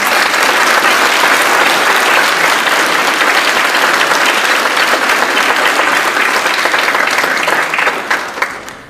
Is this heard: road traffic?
no